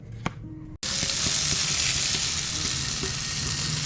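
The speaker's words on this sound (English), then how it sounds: "cooking up some eggs and potatoes for breakfast tacos" Eggs and potatoes sizzle steadily in a pan on a camp stove, a loud continuous frying hiss that starts abruptly after a brief clatter and keeps going with no talk.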